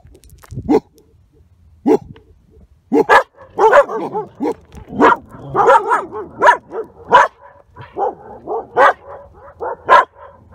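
Border Collies bark repeatedly and loudly nearby, a string of sharp barks and yips in an irregular rhythm, some overlapping, with an occasional whoop in the background.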